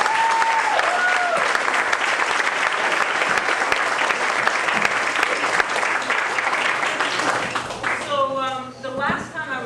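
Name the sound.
audience applause for the drummers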